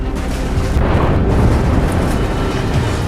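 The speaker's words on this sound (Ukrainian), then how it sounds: "у Бахмуті, на жаль, ранок починається з градів" Loud, continuous rumbling booms from Grad rocket artillery in Bakhmut in the morning, heavy low-end thunder rolling without pause, distant but powerful.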